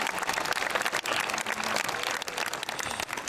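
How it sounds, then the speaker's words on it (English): A graduation audience at a 2008 high school ceremony gives the principal a round of applause: dense, steady clapping from a large crowd that fills the whole stretch without a break. "So we can get a round of applause for him."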